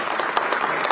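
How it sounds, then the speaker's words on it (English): Conference audience at a national security event claps for a speaker, a brief, dense burst of applause close and loud with no talking over it. "let's give him a big round of applause"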